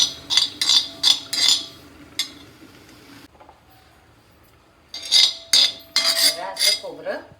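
Grated coconut roasting in a hot tava, with a metal spatula scraping and clinking against the pan in bursts of quick strokes, a pause of near-quiet in the middle, then more brisk stirring.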